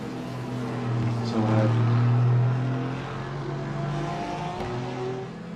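Race cars lapping Bathurst in a sim racing game, including a Porsche, give a steady, loud engine drone with rich harmonic tones that swell to a peak around two seconds in, then ease back to a sustained hum.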